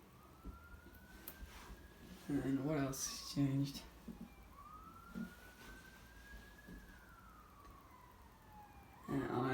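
Two slow siren wails rise and fall in the distance, while a nearby voice speaks briefly over the first one.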